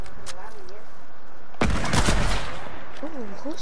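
A short, loud burst of gunfire in the Desert Zone Wars video game, a dense crackling volley of shots lasting about a second, with a player talking before and after.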